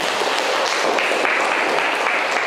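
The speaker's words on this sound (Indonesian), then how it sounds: "Nah, itu tepuk tangan dulu." A classroom of students applauds during a lesson, a continuous bright wash of many hands clapping together at even loudness throughout, with no voices standing out.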